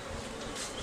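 Honey bees buzz in a hive super holding several frames, a dense, steady hum of many wings close by, brief and unbroken.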